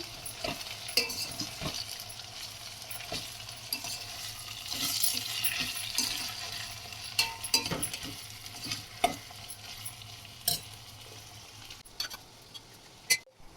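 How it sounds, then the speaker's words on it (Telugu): Ginger-garlic paste for home-made prawn biryani sizzles gently in a pan while a spoon stirs it, giving repeated scraping knocks at an uneven pace over the soft frying hiss. "అల్లం వెల్లుల్లి పేస్ట్ వేసేసి ఇప్పుడు కొంచెం తిప్పుకుందాం."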